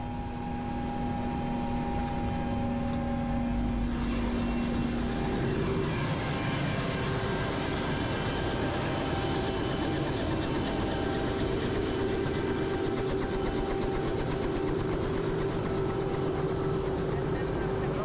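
A helicopter engine runs steadily at a landing site during a medevac flight from Bayog, a loud continuous drone with sustained tonal whine throughout, pitch shifting after a few seconds; speech is heard faintly amid the engine noise.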